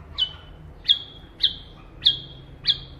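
Pet bulbul birds give five sharp, evenly spaced chirps, close and clear over a quiet background.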